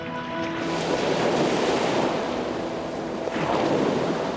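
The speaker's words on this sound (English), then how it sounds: "And the waters of the Atlantic Ocean flood in." Atlantic Ocean water rushes into one submerged end of a barge, a steady loud wash and surge of moving water with wind buffeting, swelling again near the end, no voices.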